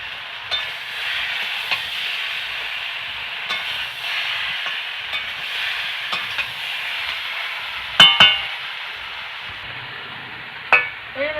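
Pre-fried fish heads of katla go into a hot pan for a Bengali fish curry with ridge gourd, pumpkin and lentil dumplings, giving a steady close hiss and sizzle with a few sharp clatters of utensils near the end.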